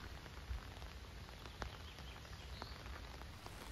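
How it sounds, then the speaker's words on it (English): Rain falling outdoors on a windy day in the Netherlands, a faint, steady patter with a few scattered louder drops and a soft background hiss, no voices. "the rain is super relaxing"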